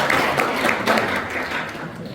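An audience at a citizens' forum in the Cheonan City Hall main conference room applauds in a dense, steady wash of clapping that fades slightly toward the end.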